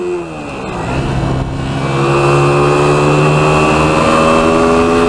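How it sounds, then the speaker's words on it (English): A 2021 Hyosung Aquila GV125 bobber motorcycle's 125cc engine pulling away on a ride, loud and close, its note rising steadily as the rider accelerates, with wind rush underneath. "Come out for a last spin on the Hyosung Aquila."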